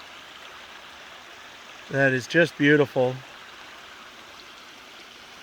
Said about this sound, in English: Little creek coming through here.